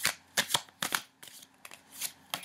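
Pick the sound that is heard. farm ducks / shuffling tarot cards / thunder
shuffling tarot cards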